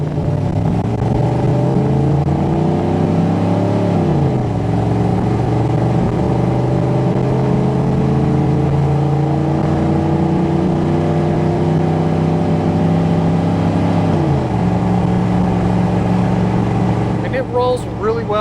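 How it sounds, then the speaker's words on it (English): The 305 V8 of a lifted 1992 Chevrolet K1500 with a 700 automatic drones steadily while driving. Its pitch climbs and drops at two clear upshifts, loud and close throughout. "we'll roll into this little 305 here now that we're warmed up."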